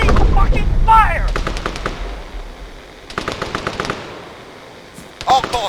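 Gunfire in the video game Arma 3, rapid bursts of automatic shots in several volleys with pauses between, mixed with voices shouting over the firefight.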